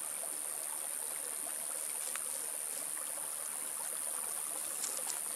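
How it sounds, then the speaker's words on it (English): Cold spring water trickles and splashes in a steady, unbroken flow, close and moderately loud, with no talking. "Stopped here to stretch our legs again and take a drink from the spring."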